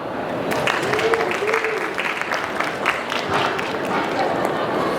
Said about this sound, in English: Round of applause for Marco.